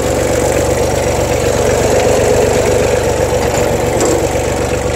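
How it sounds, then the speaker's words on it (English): An ABI P50 manure spreader runs off a tractor's PTO while composting, giving a steady, loud mechanical drone with a low engine rumble and rhythmic knocking that holds evenly for the whole stretch. "So right now I've engaged the uh, spreader with the PTO"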